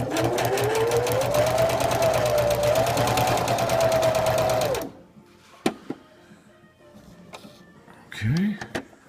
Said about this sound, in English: now I've got my bug net in the sewing machine in position here